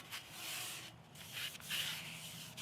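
Oil being rubbed by hand across the surface and sides of a Blackstone griddle to season it. A soft, close sweeping and rubbing sound comes in several strokes with brief pauses.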